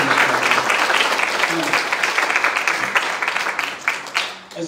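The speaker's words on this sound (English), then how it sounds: "Can we have a round of applause?" Church congregation at a community Sunday service giving a round of applause, dense sustained clapping from many people that fills the room, then thins and trails off toward the end.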